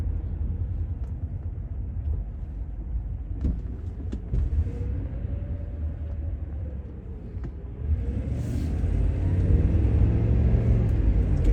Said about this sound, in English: Good acceleration. Downshift's really smooth once you give it some gas.